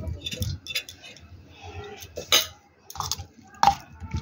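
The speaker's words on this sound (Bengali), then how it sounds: "আমি এঁচুড় মিশিয়ে দিচ্ছি।" Fried jackfruit is stirred into a curry in a pan, with intermittent scraping and clinks of a utensil against the metal, several sharper knocks among softer rustling.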